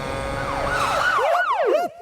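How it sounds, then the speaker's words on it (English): A police siren wails loudly in fast rising-and-falling sweeps that overlap and repeat for about two seconds, then cuts off abruptly. "That's the sound of the police."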